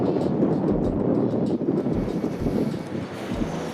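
Steady wind buffeting the microphone with a low rumbling roar and occasional gusty thumps, continuous throughout, outdoors during an archery elk hunt in New Mexico.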